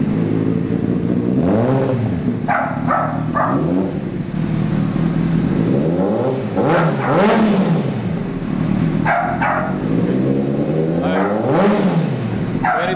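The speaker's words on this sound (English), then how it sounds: "There she is, running. There's the old motor." A 2003 Honda CBR600RR sport bike with a newly rebuilt motor revs close by in a loud, repeated rise-and-fall pattern, several throttle blips swelling and dropping over a constant running drone.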